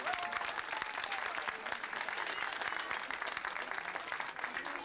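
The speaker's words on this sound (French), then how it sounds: "sous les applaudissements de notre public ici d'Arbois" Public applause fills the air at a cycling race award ceremony in Arbois, Jura, dense and steady clapping from a crowd throughout with no pause.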